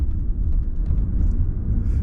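Light road traffic on a quiet street, heard as a steady low rumble of passing cars that fills the whole moment without a break, with no voices over it.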